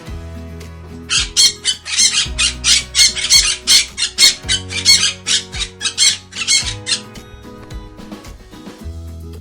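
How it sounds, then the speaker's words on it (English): A parrot squawks loudly and repeatedly in a fast series of harsh, rasping calls, close up, with a low rhythmic backing sound underneath. "Parrot."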